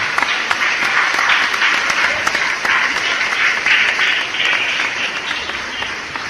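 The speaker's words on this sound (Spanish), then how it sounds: "Le da un aplauso al Señor también." Loud, sustained applause from a church congregation praising God, a thick, continuous roar of clapping hands with a few sharper claps standing out and faint voices mixed in.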